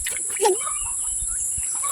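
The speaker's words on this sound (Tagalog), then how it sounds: "Ayan yung mga alagang papo natin" A few short gobbling and clucking calls from turkeys on a provincial farm, close and fairly clear, with faint background noise.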